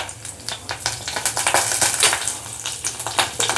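Curry leaves dropped into hot oil with mustard seeds and cumin for a South Indian tempering, crackling and sizzling close by in a steady busy hiss with sharp pops, no voices.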